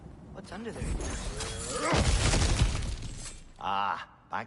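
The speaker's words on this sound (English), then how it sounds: "back to smashing through things for fun and profit" Heavy crashing and shattering as objects are smashed in God of War Ragnarok, a sustained loud burst of breaking debris amid game sounds, with a voice briefly heard at the end.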